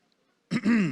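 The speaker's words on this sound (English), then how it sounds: "I clear my throat." A single throat clearing, close and fairly loud, a short rough burst followed by a longer, rasping grumble.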